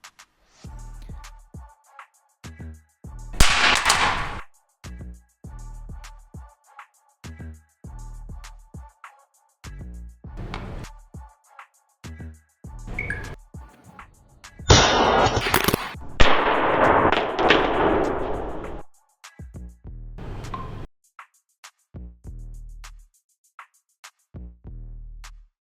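A Poco M3 phone dropped from height onto hard ground gives sharp cracking impacts and clattering bounces, loud and close, with quiet gaps between the hits.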